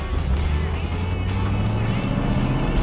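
A Ford Mustang with a 4-speed manual transmission drives along, its engine a loud, steady, close rumble with a smooth continuous drone and no speech.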